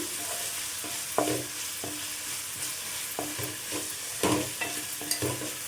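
A spoon stirs tomato and beans curry in a pan, giving repeated soft scraping and clinking strokes at an irregular pace over a low steady sizzle, close by and fairly quiet.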